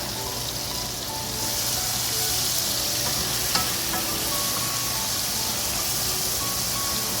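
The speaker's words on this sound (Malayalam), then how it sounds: "ആ ചെറുനാരങ്ങ നീര് ഞാൻ ഒഴിച്ചു കൊടുക്കാൻ പോവാണ്. ഞാൻ നന്നായിട്ട് ഇളക്കുക." Lemon juice is poured into frying masala for fried chicken biryani and stirred in, making a dense, continuous sizzle that stays loud and even throughout.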